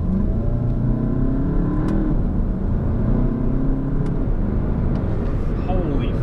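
A Cobb DSG-tuned MK7 Volkswagen GTI pulls hard, its engine pitch rising and dropping as it runs through several gear changes, close and steady, with a voice briefly over it.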